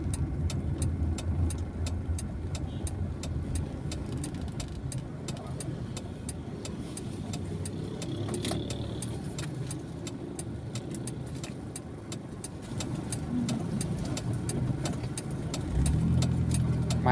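Cars and motorbikes sit in a traffic jam on the route toward Kambang Iwak over the Musi 6 bridge, a continuous low engine rumble and idling hum close by, with faint clicks and rattles over the drone.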